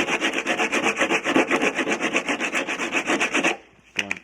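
Sanding down a gouge and rust spot on a Honda Civic body makes loud, close, rhythmic rasping strokes in quick back-and-forth succession, then stops abruptly, leaving a few faint scrapes.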